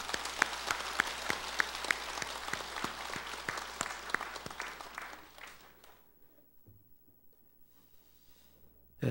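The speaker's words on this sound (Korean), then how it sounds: "우리 큰 박수를 한번 부탁드립니다" At a Buddhist temple dharma talk, a hall full of worshippers claps for about six seconds, with distinct sharp claps cutting through the crowd before the applause fades to quiet room noise.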